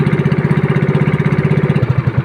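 A small boat engine runs steadily out at sea, its fast regular chugging pulses close and loud throughout with no voices.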